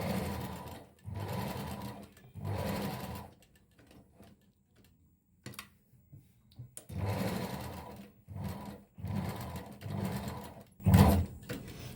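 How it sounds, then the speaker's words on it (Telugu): A sewing machine stitches a blouse along its canvas lining in close, loud bursts of rapid mechanical whirring, with short pauses between runs and faint handling noises in the gaps. "క్యాన్వాస్ పక్క నుంచే మనం స్టిచ్ వేసుకుందాం."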